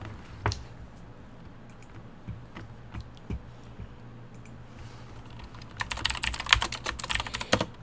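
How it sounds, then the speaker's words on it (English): Keys clatter on a big clicky computer keyboard, scattered sharp taps at first, then a dense, quick burst of typing near the end, heard close and alone. "And of course I love these big clicky keyboards, so it just makes the problem worse."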